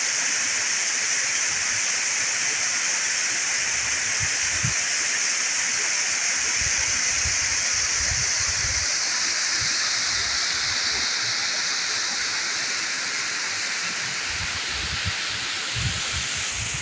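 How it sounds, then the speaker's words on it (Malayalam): A roadside waterfall at Kakkayam roars in a steady, loud rush of falling water, continuous throughout with faint low rumbles and no voices. "വഴിയരിയിൽ കണ്ടതിൽ സാമാന്യം വിപുലമായ ഒരു വെള്ളച്ചാട്ടമാണിത്."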